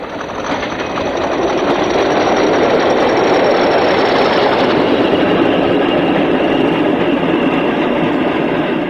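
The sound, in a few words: British Rail Class 40 diesel locomotive passing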